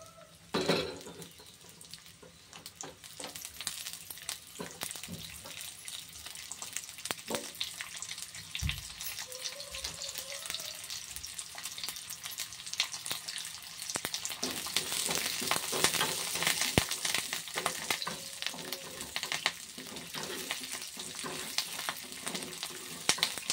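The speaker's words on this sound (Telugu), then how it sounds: "ఈ చిన్న ఉల్లిపాయలు ఏవైతే ఉన్నాయో అవి వేసుకోవాలండి. వేసుకుని లైట్ గోల్డ్ కలర్ వచ్చే వరకు వేపుకోవాలి." Small onions sizzle steadily in hot oil while frying toward golden for an onion roti pachadi, a dense, continuous crackle with occasional stirring clatter and brief faint voice.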